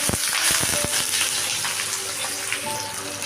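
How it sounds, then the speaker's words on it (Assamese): Chopped onions hitting hot oil in a wok that already holds whole spices, dried red chillies and a bay leaf, giving a loud, steady crackling sizzle with a few sharp pops at the start and no talk over it. "আৰু কাটি ৰখা পিঁয়াজখিনি দিছোঁ"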